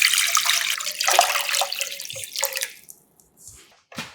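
About 1.5 liters of water pours steadily into a pot holding a sheet of kelp and dried anchovies for broth, for about three seconds with a splashing, gurgling rush, then stops, leaving a few faint drips and clinks.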